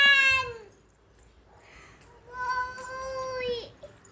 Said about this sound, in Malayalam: രണ്ട് പൂച്ച ധൈര്യമായിട്ട് നോക്കിയിട്ട് പോവാ.